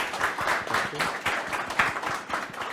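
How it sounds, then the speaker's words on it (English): Audience at a panel discussion on urban land transport applauds the panelists, a dense, moderately distant patter of many hands clapping steadily throughout with no speech. "A round of applause, if you could, for our guests, panelists"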